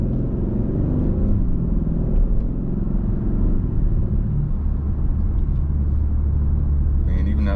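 A 2022 Hyundai Sonata N Line accelerates at about 3,000 RPM, its engine a steady low rumble heard from inside the cabin, loud and continuous beneath a voice talking.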